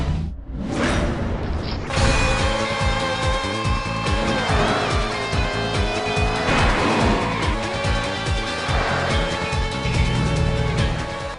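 Ferrari racing engines roar continuously in Outrun 2006 Coast 2 Coast, loud and close, with revving pitch sweeps, tire squeals and a steady mechanical hum throughout.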